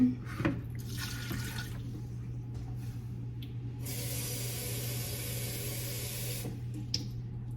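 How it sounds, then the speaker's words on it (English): Water runs from a tap into a blender holding fresh coconut pieces for coconut milk, a steady hissing stream lasting a few seconds amid quieter handling noises and a constant low hum. "And then I add the water."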